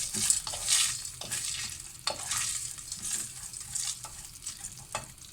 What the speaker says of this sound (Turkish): Güzelce kızartacağım erişteleri.